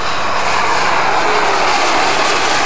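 A model Avro Vulcan jet aircraft makes a low flypast at a model aircraft show, its engine roar loud, steady and broadband throughout with no pause.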